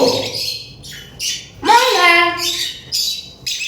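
A caged myna bird gives loud, harsh squawks and speech-like calls in short bursts, close by, with someone speaking between them.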